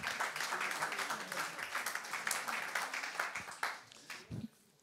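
Applause at a business leaders' conference in the Avignon area welcoming a speaker onstage: a dense, sustained wash of clapping from a seated hall audience, fairly faint and even, thinning out and stopping near the end.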